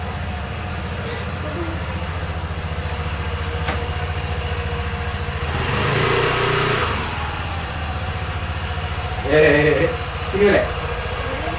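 A new Moda Moca 110 motorcycle idles indoors inside a house, a steady close putter running throughout, with a swell in engine noise midway and short bursts of speech near the end.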